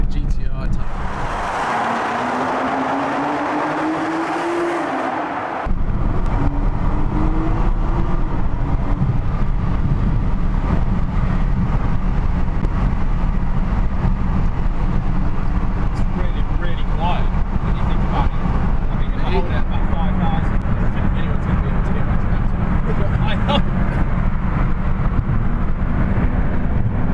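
A Nissan GT-R with its turbocharged engine runs loud and close inside a tunnel, a rising whine in the first seconds giving way to a dense, steady engine roar that echoes and fills the rest of the stretch.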